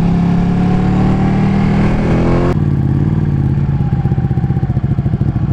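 Ducati 899 motorcycle engine braking on a test ride, a steady loud engine drone that drops in pitch partway through and carries on as a lower, rougher rumble.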